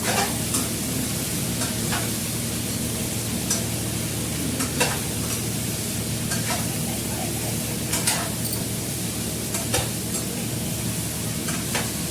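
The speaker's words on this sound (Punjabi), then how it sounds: "ਸਬਜ਼ੀ ਬਣਾ ਲਈ ਆਪਾਂ ਨੇ ਤੜਕਾ ਲਾ ਲਿਆ" Vegetables sizzle steadily as they are tempered in a hot pan for the whole stretch, with occasional sharp crackles and the scrape of stirring; no talking.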